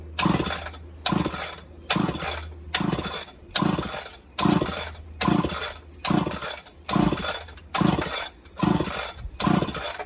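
A Homelite chainsaw fitted with a Husqvarna bar is pull-started with the choke on while its emptied fuel line refills. About ten evenly spaced rasping cord pulls come up close and loud, and the engine never catches.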